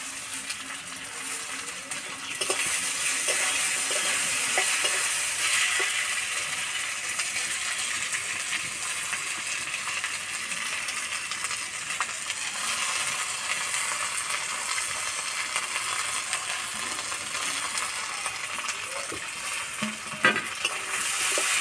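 Rice pulao with raisins is stirred and fried in a pan, giving a continuous soft sizzle with scraping and clinking spoon strokes, steady and close throughout.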